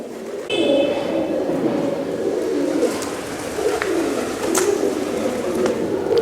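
Pigeons coo steadily inside an enclosed palace courtyard in Bundi, India, covered by a metal grate screen, the soft repeated calls continuing alone with faint echoing background ambience.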